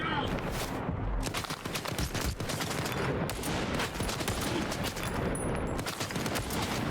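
RPK machine gun fire in Stalker 2, arriving as rapid, loud bursts of gunfire that repeat through the whole stretch with brief gaps between volleys.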